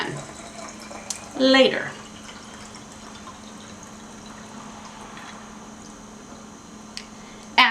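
Tap water gushes briefly into a film development tank during a wash step, one short loud burst of filling in an otherwise quiet room, with a voice speaking briefly at the end.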